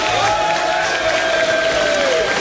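Audience applause and cheering in a hall during a debate on hunting, a mixed crowd clapping for the hunters' side with a steady tone running over the noise.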